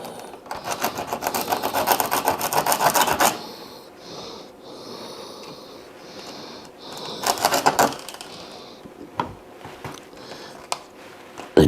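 Fingernails scrape at a hard okra seed shell in quick, rough rasping bursts close to the mic, with quieter scratching and pauses between the louder spells.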